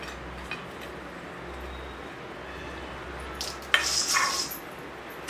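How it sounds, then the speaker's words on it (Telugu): Cardamom pods are dry roasted in a pan set over a plate, giving a soft steady rustling scrape under faint background hum, with a brief sharper metallic clink and rattle of stirring near the end. "వేసుకొని సన్నని గిన్నెల పైన వేయించుకోవాలి."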